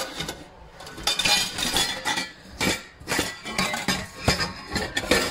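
Clean knife picked up from among cutlery, a run of bright metallic clinks and rattles, close and moderately loud, recurring in uneven bursts over several seconds with no talking.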